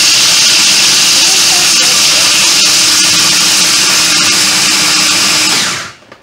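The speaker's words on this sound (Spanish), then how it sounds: "Lo vamos a poner en el procesador, ¿verdad que sí? Y vamos a batir" A food processor whirs loudly and steadily while blending warm almonds into almond butter, a continuous motor drone with grinding hiss that cuts off abruptly at the end.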